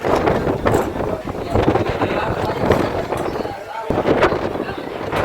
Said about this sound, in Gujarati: જો તો આમ સામે નારિયેળી કેટલો બધો પવન આવે છે